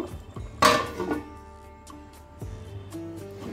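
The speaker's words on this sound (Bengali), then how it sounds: "এবার আমি আর একটু ঢেকে দেব।" A lid goes onto a pot of prawn curry on a low flame with a clear metallic clank, followed by a few lighter clinks and taps of cookware, close and fairly quiet.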